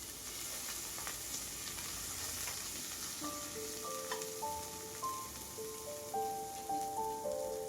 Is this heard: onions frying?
yes